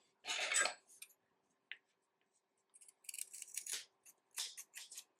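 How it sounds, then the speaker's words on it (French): Scissors snip the excess cord off a crocheted faux-macramé keychain, with several quick, crisp cuts close by and brief pauses between them in a quiet room. "on va juste couper tout ce qui dépasse."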